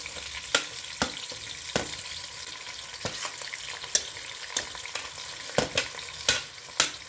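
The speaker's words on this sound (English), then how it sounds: "So now goes my onions and my thyme and my curry leaf and my green chilies." Onions, thyme, curry leaf and green chilies fry in hot oil for biryani, a steady close sizzle broken by sharp pops and crackles, with no talk over it.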